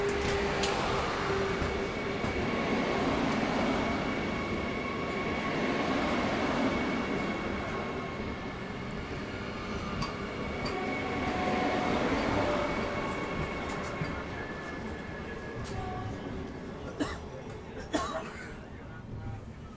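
Vande Bharat train on the KSR Bengaluru–Dharwad route arriving slowly in fog, with a broad continuous rumble and tonal hum rising and falling over twenty seconds, later a few clanks, with people talking nearby.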